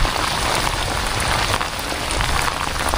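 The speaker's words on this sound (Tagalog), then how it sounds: "yung naririnig nyo pong ingay ay patak ng ulan sa aking kapote" Raindrops patter on a raincoat during a fishing trip: dense, steady close-up tapping and hiss throughout, loud and unbroken.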